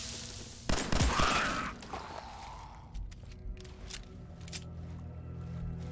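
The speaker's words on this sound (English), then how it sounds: "Missed 2 out of 3 shots." In Fallout 4, a sharp gunshot rings out with a rolling echo, then a few quieter cracks and mechanical clicks follow at spaced intervals over a low background hum.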